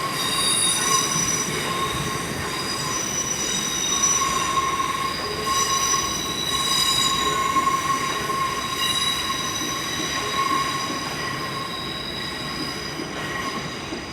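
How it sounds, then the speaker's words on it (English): A class 360 TfL Rail train arriving at London Paddington gives a loud, sustained high-pitched wheel squeal with layered metallic tones over a rolling rumble, heard up close and alone. "This might be Heathrow Terminal 4 terminating in class 360 unit. TfL Rail."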